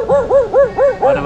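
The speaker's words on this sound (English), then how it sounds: "Are you barking at us?" A dog barks repeatedly in a steady rhythm, five or so close, loud woofs with no gaps of silence between them.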